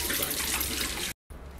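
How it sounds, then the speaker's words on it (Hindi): A washing machine part is washed by hand in water, with a continuous loud rush and splash of running water that drops out briefly and then resumes more softly. "पानी में धो लूंगी।"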